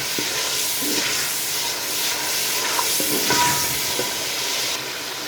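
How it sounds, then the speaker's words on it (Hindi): Onions frying in a pan for an aloo matar curry, a steady broadband sizzle with occasional scraping stir strokes, close and continuous throughout. "प्याज हमारे अच्छे से भून चुके हैं"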